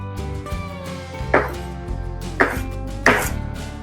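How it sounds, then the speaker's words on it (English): A knife chops cilantro into small pieces on a cutting board. The clip has three crisp, close knife strikes spaced about a second apart, over a soft background hum. "Next up, we have the cilantro. Basically, super easy. Just cut this into small pieces."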